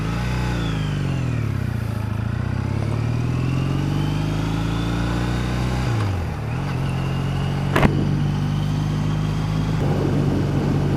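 A 2014 Triumph Bonneville motorcycle's engine hums with a deep, throaty note during a ride, rising and falling in pitch as it accelerates. A gear change dips it around the middle, then the steady drone resumes, close and continuous.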